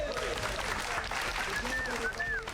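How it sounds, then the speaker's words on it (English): Audience applause at a Doctor Strange film event, a brief, fairly soft burst of clapping with voices underneath. "Give yourself a round of applause."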